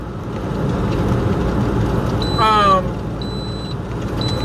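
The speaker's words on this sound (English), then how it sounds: "Sorry if you're hearing beeping, guys. This truck is fucking crazy." A truck's reversing alarm gives high, thin beeps about once a second, fairly faint, over a steady broadband background of traffic rumble.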